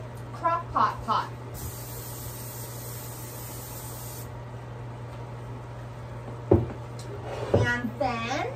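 Cooking spray hisses from an aerosol can into a crock pot in one steady burst lasting a few seconds, close and loud, with talking before and after.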